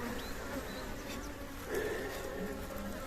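Honey bees swarm around an opened homemade horizontal Langstroth hive during a brood frame inspection, a dense continuous buzz with individual bees droning past close by.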